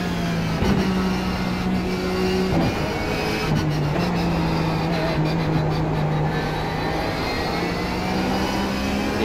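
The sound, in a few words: Porsche 911 GT3 race car engine at Suzuka in iRacing video game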